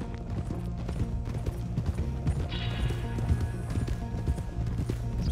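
Horse hooves clip-clopping at a steady trot while arriving at the stables in Red Dead Redemption 2, close and continuous over a low ambient bed, with game sound effects and no talk.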